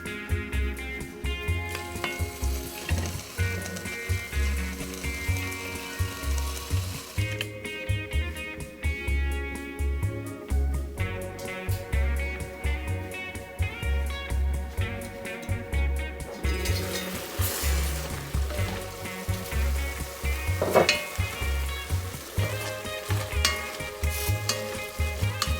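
Ground turkey browns in a pan with a constant sizzle and occasional stirring scrapes, heard close under a continuous bed of music.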